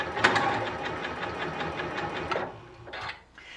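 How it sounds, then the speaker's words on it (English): A Janome Continental M6 sewing machine runs a default straight stitch, a steady close mechanical whir with rapid needle clatter that slows and stops near the end, then a couple of brief soft clicks. "So once again, we'll just do some stitching."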